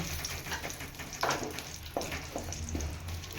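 Sizzling oil in a pan as ingredients fry until browned for a mixed dal with cauliflower curry, a steady crackling hiss broken by a few louder spatters and stirring scrapes, close and continuous.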